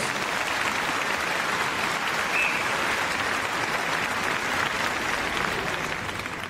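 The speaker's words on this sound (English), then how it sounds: "Big round of applause, please, for all the teams." An arena crowd at Crufts dog show applauds the RAF police dog display teams, sustained even clapping from many hands filling the hall without a break.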